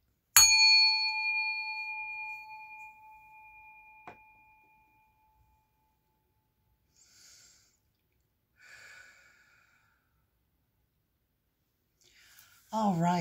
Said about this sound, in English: we're just going to ring this bell